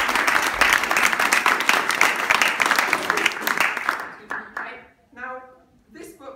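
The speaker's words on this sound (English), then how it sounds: "give her a round of applause" Audience applause at a school talent show welcomes a volunteer to a stage act: dense, loud clapping fills the first four seconds, then fades as a voice begins speaking.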